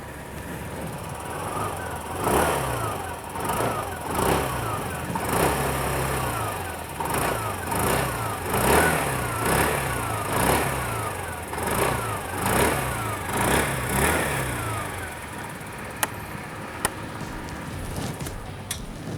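A 2021 TVS Jupiter 125 scooter starts and settles into an idle, its small engine pulsing in a repeating rhythm up close and fairly quiet, ending with a few sharp clicks.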